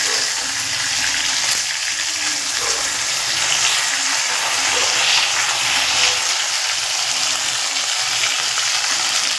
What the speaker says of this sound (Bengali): মাছ এক পিঠ ভাজা হয়ে গেছে, উল্টে দেব।